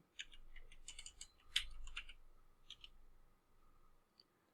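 Password being typed on a computer keyboard: a quiet run of light, irregular key clicks with a few sharper taps, close and alone.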